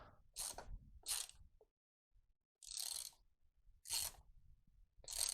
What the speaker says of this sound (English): remove this front grill cover here. It uses a 13mm socket.